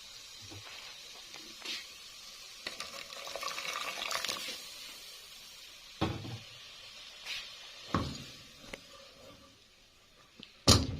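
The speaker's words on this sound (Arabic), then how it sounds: "هحط حبه ميه كمان." Water is poured into a cooking pot of vermicelli on the stove for yellow lentils, a short, fairly faint splashing pour mixed with scattered clinks and knocks of the pot and utensils.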